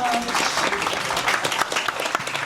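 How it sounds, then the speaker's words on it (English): An audience claps for Ryan at a talk on Krishna, Christians and world religions in Boston, a moderate, fairly quiet round of applause with a voice briefly audible over it. "A round of applause for Ryan."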